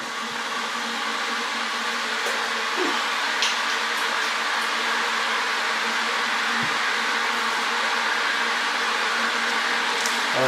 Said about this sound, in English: Our kettle is boiling,